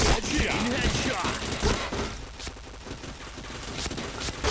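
Video game gunfire rattles in dense, rapid bursts of loud, close shots that pile into a continuous fusillade and then thin to scattered cracks.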